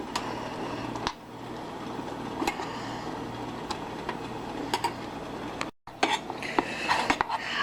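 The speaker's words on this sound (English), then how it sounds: "you want to constantly stir this as your chocolate melts" Chocolate melting in a pot under constant stirring, with scattered metallic clinks and scrapes of a utensil against the pot over a low steady background and a short dropout near the end.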